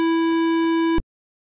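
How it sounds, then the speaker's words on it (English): A synthesizer square wave sounds as a bright, buzzy sustained tone rich in overtones, held steadily for about a second before stopping abruptly. "You have your square waves,"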